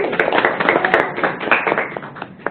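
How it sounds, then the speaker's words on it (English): Audience applause at a Highland campus gathering, with steady, dense clapping from many hands filling the room at close to mid distance and no talking over it. "So if you guys will help me give a round of applause to Ms. Kat Atienza."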